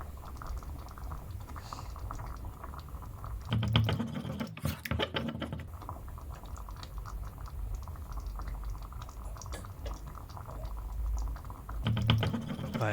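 Buttery beans simmer in a pan on the hob with a steady, close bubbling patter that carries on throughout, briefly louder and busier in two short bursts.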